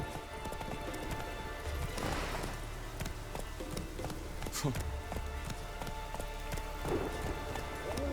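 A horse gallops with a fast, steady clip-clop of hooves in The Witcher 3 video game, running continuously over a soft rain-like ambient wash.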